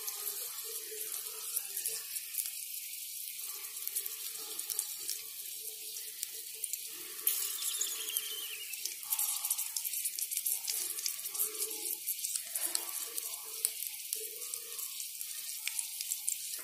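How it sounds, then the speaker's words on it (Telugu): Green chilies fry in hot oil for mirchi aloo appadam, a soft, steady crackling sizzle with brief bursts and pops that comes and goes across the whole stretch, alone and fairly quiet. "ఇది వెనక వైపు అంటే కింది భాగం అంతా, మిర్చి కింది భాగం అంతా కూడా ముందుగా మనము ఫ్రై చేసుకుందాం"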